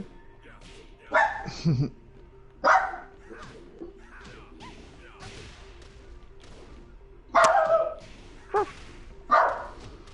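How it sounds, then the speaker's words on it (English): A dog barks in a few loud, separate bursts spread across the stretch, over a low steady background hum with faint talk in the room. "she's barking at something"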